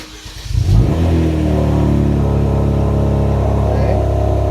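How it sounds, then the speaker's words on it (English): A Kia Stinger GT with freshly installed Denso IKH27 spark plugs cranks briefly, then catches and settles into a loud, steady high idle close by. "I'm gonna go ahead and start the car"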